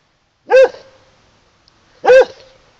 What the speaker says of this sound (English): And the annoying dog is barking in the background.